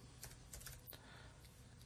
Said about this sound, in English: let's just start typing in the product name